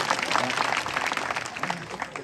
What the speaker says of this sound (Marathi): सर्वांनी एकदा टाळी वाजवली